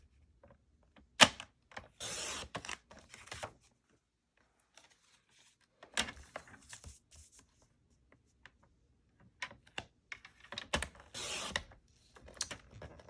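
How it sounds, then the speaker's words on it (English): A paper trimmer slicing through cardstock, with several short scraping, ratcheting passes of the blade separated by pauses, close and fairly quiet. "Our trimmer makes quick work of trimming this down."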